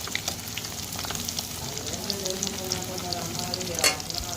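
Chicken pakoda pieces fry in hot oil, crackling with a constant close sizzle while a utensil stirs and scrapes the pan, including one louder clink near the end.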